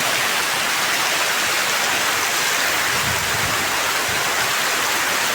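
Rain pouring down steadily outdoors during a downpour, a dense, loud, unbroken hiss with no pauses and no voices.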